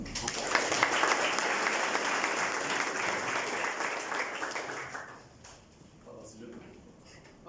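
Applause from an audience at a Made in Moris business programme ceremony in Mauritius fills a hall loudly and evenly, then fades out toward the end, leaving quieter room sound.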